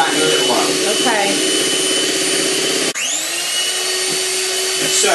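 An electric whisk buzzes steadily as it beats egg whites in a bowl, with a brief dip and a pitch shift near the middle.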